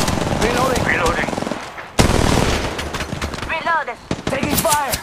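Rapid automatic weapon fire in the Apex Legends video game rattles out in dense bursts, broken by brief pauses, while voices talk over the shooting.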